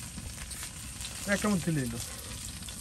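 Onions fry gently in a pan with a soft continuous sizzle, while a person speaks briefly over it.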